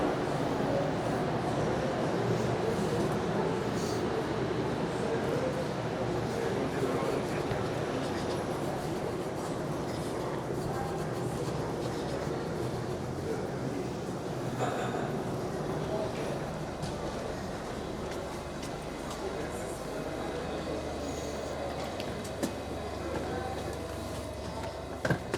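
Steady rumble and rattle of a Paris Metro Line 14 train heading south toward Orly airport fill the space, a continuous droning ride with faint voices underneath.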